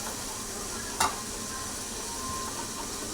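Pointed gourd (potol) frying in oil with stirring: a steady broadband sizzle fills the whole stretch, broken by one brief louder scrape of the utensil near the middle. No one speaks.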